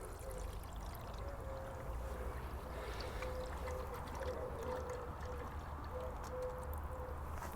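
Water rushes through PVC piping from a 10ft pool after the pump valve is opened, a steady continuous pour with a constant drone underneath, fairly loud and unbroken throughout.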